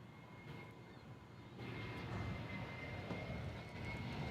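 A Delta Airlines airplane at DFW International Airport gives a distant, faint broadband jet rumble that swells slightly midway and holds steady, with no talking.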